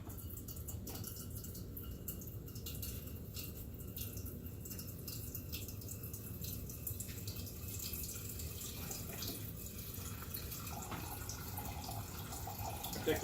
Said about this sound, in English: Take a 2-quart saucepan, fill it full of water.